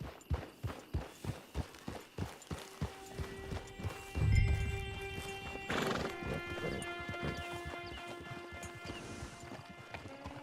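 A horse in the Red Dead Redemption 2 video game trots with rhythmic hoof clip-clops that slow to a stop, then gives a loud whinny partway through, followed by snorting and faint ambience.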